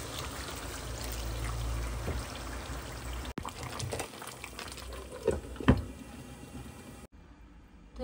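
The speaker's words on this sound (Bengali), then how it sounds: "এখন দিয়ে দেবো কিছুটা পরিমাণ দুধ" Milk pours into a pan of cooking roast, a low gurgling stream and bubbling over a steady background hiss with a few clinks, fairly faint, followed by a sudden cut to quieter sound.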